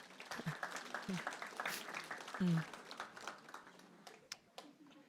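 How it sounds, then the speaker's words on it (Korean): A church congregation at Yeouido Baptist Church's Wednesday worship claps quietly and somewhat sparsely, scattered hand claps heard at a distance with voices mixed in. "옆에 계신 분 박수 한번 부탁드리겠습니다."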